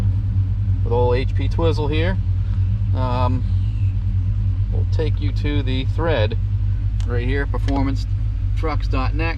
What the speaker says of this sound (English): truck's running, you can probably hear it in the background